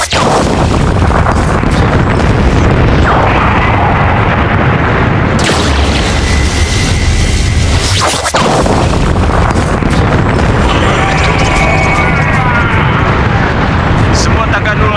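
Large explosions in an episode of the Ultraman Blazar tokusatsu series, a continuous loud rumbling blast with a sharp break partway through, dense and booming throughout, with dubbed dialogue underneath.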